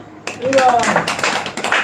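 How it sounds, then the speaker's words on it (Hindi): An audience at a Bhagavad Gita lecture claps together in a dense burst of hand claps that starts after a short pause and continues steadily to the end, with a voice heard faintly underneath. "ताली बजाओ"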